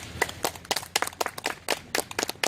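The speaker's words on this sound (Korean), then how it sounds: "박수로 환영해 주시기 바랍니다" An audience at a political party founding ceremony and appointment event applauds to welcome a newly appointed regional representative: a short burst of scattered, fairly sparse claps from a small crowd, close and clear.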